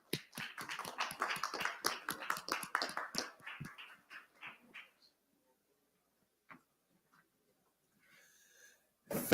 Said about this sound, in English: please give a big round of applause for Oleg Fomenko of Sweat and Jeff Wilzer of AI Curious